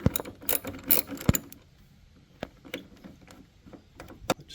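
A ratchet loosens the hold-down bolt on a 1999 GMC Sierra / Chevy Silverado truck battery, giving quick bursts of close clicking pawl ticks separated by quieter pauses and scattered metallic clinks.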